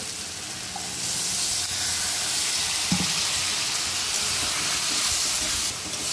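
Water poured onto frying spice masala of chilli, cumin and coriander powders bursts into a loud, close hissing sizzle that holds steadily for several seconds, then eases off.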